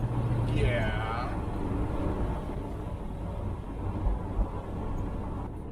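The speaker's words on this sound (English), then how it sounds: "What a beautiful day for a drive in a convertible." A 1970 Cutlass convertible cruises with its top down. The engine rumble is low and steady under wind buffeting, and a brief rising whine sounds near the start.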